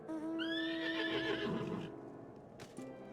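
A horse mount in Final Fantasy XIV gives a loud, drawn-out whinny that rises and fades over a couple of seconds, followed by a brief clatter of hooves.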